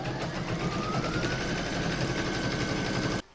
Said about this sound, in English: I'll place that in my machine and stitch round number two.